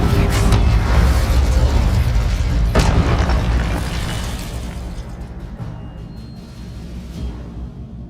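Incendio fire spell bursts in Hogwarts Legacy, a loud whooshing boom and crackling blast at the start, a second burst near three seconds, then a rumbling tail that slowly fades.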